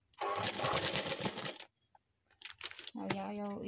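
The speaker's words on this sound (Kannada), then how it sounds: "ಇವಾಗ ಇದು ಕರೆಕ್ಟಾಗಿ ನಾವೆಲ್ಲೆಲ್ಲಿ ಮಾರ್ಕ್ ಮಾಡ್ಕೊಂಡಿದ್ದೀವಿ ಅಲ್ಲಲ್ಲಿ ಇದನ್ನು ಸ್ಟಿಚ್ ಮಾಡ್ಕೊತಾ ಬರಬೇಕು" A sewing machine stitches a blouse back design, its needle whirring steadily up close for over a second, then stopping and starting again in short bursts, with someone talking over the later part.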